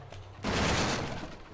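A sudden blast in the Spider-Man Friend or Foe video game, a dense burst of crackling noise that erupts after a short lead-in and rumbles loudly for about a second before easing off.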